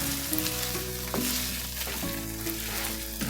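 Sloppy Joe sauce of tomato sauce, sugar and salt sizzling in a pan while being stirred, a steady close frying hiss with occasional scraping strokes.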